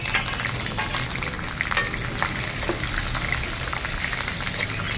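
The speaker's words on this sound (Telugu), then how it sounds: "ఇవన్నీ చక్కగా వేగాలండి" Green chillies and dried red chillies frying in oil with a tempering, a steady, close crackling sizzle with scattered pops continuing evenly throughout.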